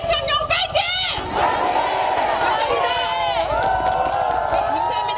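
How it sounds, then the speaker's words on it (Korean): A crowd at a Save Korea prayer rally in Incheon shouts a slogan in unison, loud overlapping voices swelling into a long sustained cheer after a leader's call. "자, 여러분 구호 외치고 마치겠습니다."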